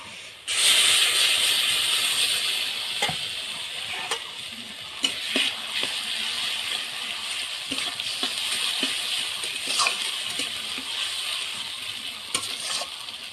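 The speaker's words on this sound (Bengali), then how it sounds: "এই তো আলুগুলো এবার তেলের মধ্যে দিয়ে দেব বাটা মশলা।" Potatoes and ground spice paste frying in hot oil, a steady loud sizzle and hiss with occasional stirring clatters throughout, no voices.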